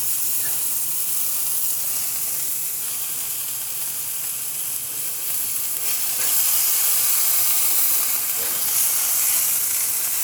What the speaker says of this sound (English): Squish it down and we cook it on both sides. We want to crisp it up now on both sides of that.